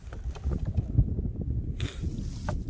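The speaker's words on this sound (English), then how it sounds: "that wind is gonna be a pain in the ass" Gusty wind buffets the microphone outdoors beside the water on a fishing outing, a steady low rumble with brief bursts.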